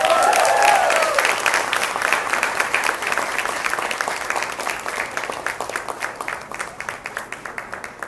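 A graduating class of 2015 receives applause at their graduation ceremony: a dense, sustained round of many hands clapping that gradually thins and softens, with no voices over it.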